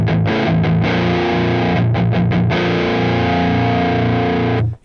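Heavily distorted electric guitar plays loud sustained chords with brief choppy stops, ending abruptly.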